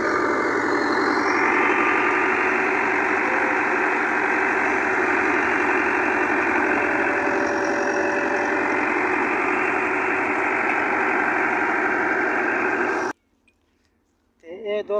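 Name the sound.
tractor engine idling at wheat threshing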